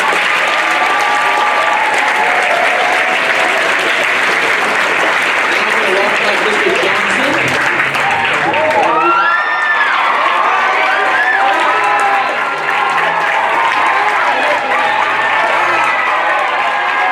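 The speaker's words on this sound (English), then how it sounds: "Let's have a round of applause for the teachers." A school assembly audience claps for the teachers, sustained loud applause from a crowd with some cheering and whoops rising partway through.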